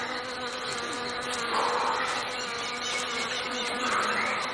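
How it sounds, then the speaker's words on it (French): Wasps buzzing in an outdoor setting, a dense continuous insect drone that swells slightly now and then, steady and fairly close, with no talk. "C'est parce que c'est les guêpes, là, et les guêpes, je suis allergique."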